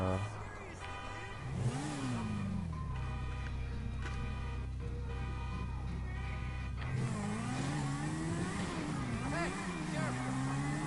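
A video game motorcycle engine drones loud and steady, its pitch climbing and dipping as it revs and shifts, and a voice talks over it.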